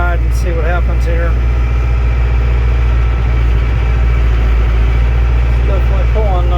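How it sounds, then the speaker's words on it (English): A New Holland tractor drones steadily under load, pulling a 3-bottom plow through sod hay ground, its heavy low engine rumble constant and close while someone talks over it. "as the front of the tractor goes up, the plow goes in deeper"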